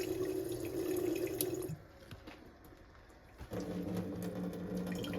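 Tap water runs steadily from a kitchen faucet with a filter attachment, a continuous close splashing stream that briefly drops to a quieter trickle midway before resuming at full flow.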